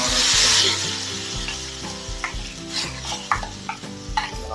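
A hot tempering is poured into a Kerala ripe-mango pulisseri curry. A loud sizzle flares at first, then fades under stirring, with spoon and pot clinks close by.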